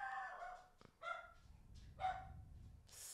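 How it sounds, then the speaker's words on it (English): A pet dog barks several times in short bursts, loud and close indoors, during a casual sports podcast conversation about the NBA. "Sorry, my dog."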